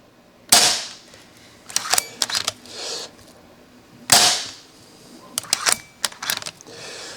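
An Umarex Zelos PCP air rifle fires pellets in two sharp, loud cracks about three and a half seconds apart, each followed by scattered clicks and small handling noises.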